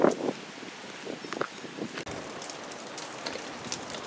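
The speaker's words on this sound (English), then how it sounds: "Still a little windy," Light drizzling rain falling on a windy day during Hurricane Harvey in San Antonio, a soft steady patter with gusty wind and a few brief louder bursts, no talking.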